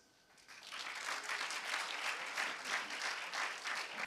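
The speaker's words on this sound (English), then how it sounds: "A big round of applause." Audience applause at an East Africa business leaders awards ceremony swells in within the first half second and holds as a full, steady wash of clapping from many hands to the end.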